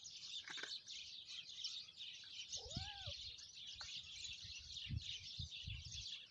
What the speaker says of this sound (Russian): Птицы разлетелись. Щебечут.